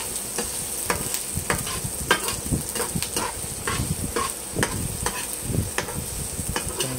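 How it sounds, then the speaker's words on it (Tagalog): Garlic, onion and ginger sizzle in hot oil in a pan while being stirred, giving a continuous loud frying hiss punctuated by regular scraping stirs close by. "Maminit na yung oil. Ilagay na natin yung bawang, sibuyas, at luya."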